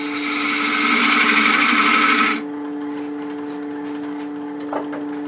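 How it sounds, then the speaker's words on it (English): A 1/16-inch parting tool cuts a recess into a workpiece on a lathe, giving a loud, steady tonal machining whine for about two seconds before it drops away to the quieter hum of the running lathe, with a faint tap near the end. "I'll use a 16th of an inch parting tool for that recess"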